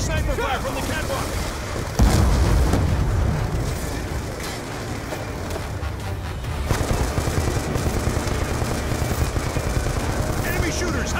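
Dense, continuous gunfire and explosions from the Call of Duty Black Ops 2 video game, with a heavy blast near the start and rapid shots that carry on loudly throughout the battle.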